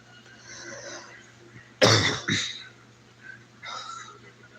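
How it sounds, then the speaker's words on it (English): A man coughs twice in quick succession, two sharp bursts close to the microphone, with a fainter rasp or throat noise a moment later over quiet background hum. "Coughing."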